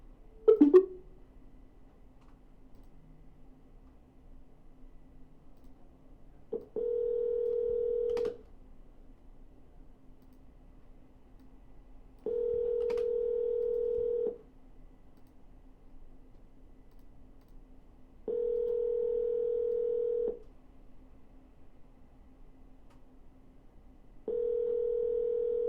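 A phone call is placed with a quick burst of keypad dialing tones, then a long stretch of ringback tones sounds in even two-second pulses separated by quiet gaps, with no talking.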